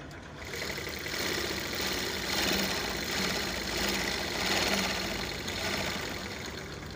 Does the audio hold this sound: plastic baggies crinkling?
no